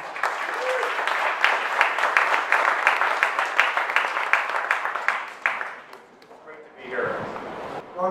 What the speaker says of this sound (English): let's give a round of applause and welcome Ron Zuber